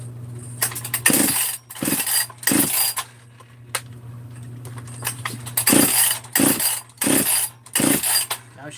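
A Husqvarna 262 chainsaw being pull-started on choke gives a series of sharp, loud bursts as the engine coughs and catches briefly, over a steady low hum, with repeated pulls at an irregular rhythm.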